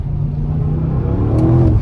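An Audi RS6 C8 accelerating in dynamic mode on a snowy road, its engine and exhaust giving a deep close rumble that swells and rises in pitch toward the end.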